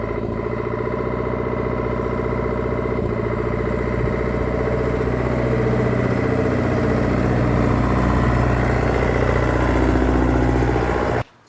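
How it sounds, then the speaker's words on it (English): Dennis fire tender with a Gardner 4LK engine and Zenith gearbox climbing a steep hill, a steady loud diesel drone close by that holds for about eleven seconds with slight shifts in pitch, then cuts off abruptly. "You'll hear the Zenith gearbox changing gear as the fire tender approaches."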